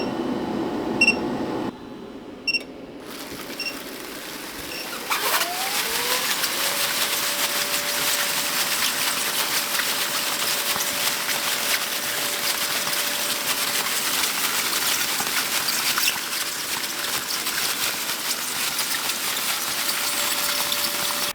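A bubble wrap machine pulls plastic film through while air blows in to inflate the cells, giving a steady close mechanical hiss and whir with a faint sustained tone, preceded by a few brief clicks and taps.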